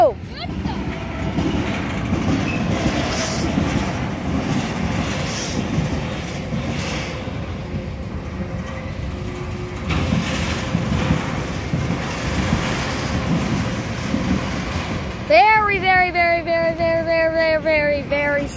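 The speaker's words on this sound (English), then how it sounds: "Very slow train." A slow freight train with distributed power rumbles past in a rail yard with low steady rolling noise and faint clanks, then a long metallic screech of wheels rises near the end as it stops.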